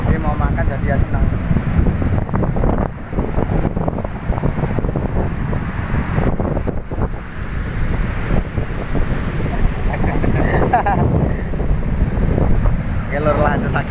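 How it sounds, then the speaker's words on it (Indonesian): Strong wind blasts across a sandy beach during surf fishing, roaring loud and continuous into the microphone with waves washing underneath. "Ini angin gede mau makan jadi ya senang."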